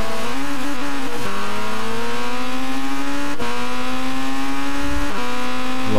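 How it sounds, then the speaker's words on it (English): Race car in a junior championship round, engine revving and shifting down under hard braking, a loud close steady roar with pitch drops at each gearchange and no talk over it. "Lost control of the car hard on the brakes."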